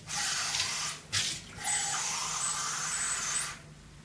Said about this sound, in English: add a glass of cold water.